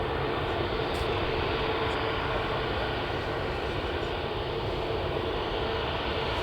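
A Boeing 737 MAX family airliner at Manchester Airport gives off a steady, broad jet engine roar, constant and fairly distant with no clear rise or fall.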